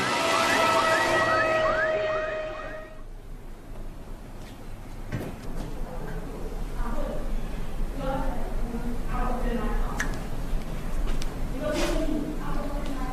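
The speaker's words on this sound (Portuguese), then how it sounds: "a ambulância corria para a clínica Santa Eunice em O'Wary." An ambulance siren wails in a steady rising and falling pattern as the vehicle races toward a clinic, loud at first and then dropping under a dense bed of background sound and music.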